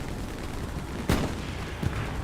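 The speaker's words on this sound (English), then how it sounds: "you can hear a lot of explosions." Distant battlefield noise from the World War II shooter Hell Let Loose on the Eastern Front, with two sharp gunshot or explosion cracks standing out above a dense, steady roar of combat.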